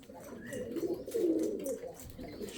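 Pigeons cooing on a terrace, soft low throaty coos rolling in a steady overlapping murmur close by, with no talking.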